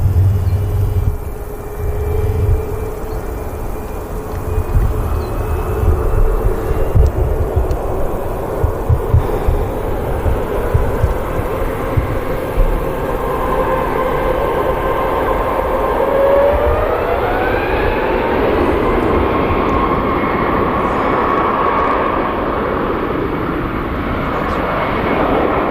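A Ryanair airliner rolls along the runway at Manchester Airport, its engine roar building and holding loud with rising and falling whining tones over a deep rumble.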